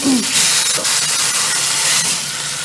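Beef steaks for trinchado laid fat-side down in a hot pan, bursting into a loud, close, continuous searing hiss that holds steady and eases slightly toward the end.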